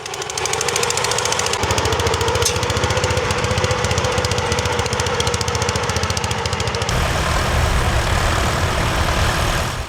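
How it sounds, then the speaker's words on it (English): A Ransomes MG crawler tractor runs close by, its small engine chugging in a fast, steady pulse with a rattly mechanical edge; the tone shifts partway through as the engine note changes, and no one speaks. "Here's a tractor that brings back some memories, the Ransom MG Crawler"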